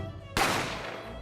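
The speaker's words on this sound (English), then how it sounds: "the sound of the gunshot echoed within the establishment" A single sharp gunshot in The Great Ace Attorney video game, a sudden loud crack after brief near-silence, followed by a decaying echo as if inside a room.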